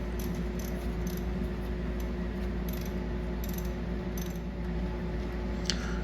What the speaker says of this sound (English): box wrench just to loosen up these bolts